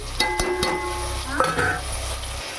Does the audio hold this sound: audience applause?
no